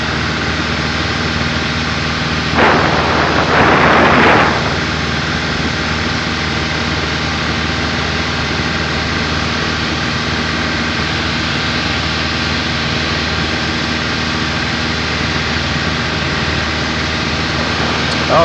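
A light aircraft engine drones steadily in flight with its RPMs pulled back slightly during a flight lesson, a constant loud cabin hum with a brief burst of radio or intercom noise near the start.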